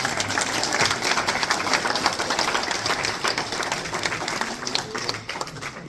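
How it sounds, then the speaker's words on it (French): An audience applauds at an evening artists' dinner celebrating Frida Kahlo, a dense, lively burst of many hands clapping throughout, fairly close and steady before tapering slightly at the end. "On peut applaudir."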